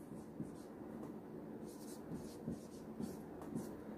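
Pen or marker writing out a chemical formula for potassium sulfate, a soft scratchy stroke sound with several short taps and scrapes over quiet room noise.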